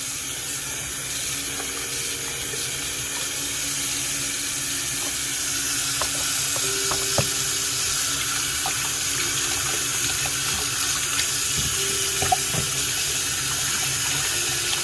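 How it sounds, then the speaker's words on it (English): A paint roller coated in screen paint is rinsed under a running tap in a sink, with a steady hiss of water and occasional small splashes and clicks throughout. "So you're gonna have to wash that roller clean."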